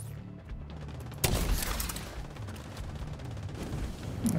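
Video game gunfire in an open-world shooter: a burst of shots with a sharp boom at about a second in, followed by sustained rolling fire and rumble over a steady background hum.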